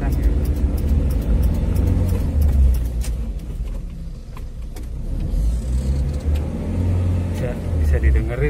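A 1997 Suzuki Jimny Katana GX 4x4 engine idles and hums with a low rumble, rising and easing slightly as gears are shifted, close by, while someone talks throughout.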